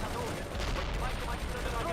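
Machine gun fire in the World in Conflict strategy game, a continuous dense rattle of distant gunfire and battle noise, fairly quiet and steady throughout.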